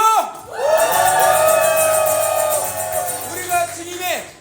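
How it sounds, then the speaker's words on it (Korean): A church congregation at a worship service lets out a loud collective shout of victory, a sustained roaring crowd cry of many voices that holds for a few seconds and then breaks into scattered whoops and cheers. "승리의 함성!"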